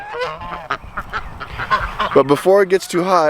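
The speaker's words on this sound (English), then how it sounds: "We got two brown Chinese geese" Brown Chinese geese honk repeatedly at close range, loud nasal calls coming in bursts and clustering toward the end, with a voice talking underneath.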